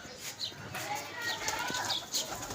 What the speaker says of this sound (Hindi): ये आ गया, ये मेरा आसम का कबूतर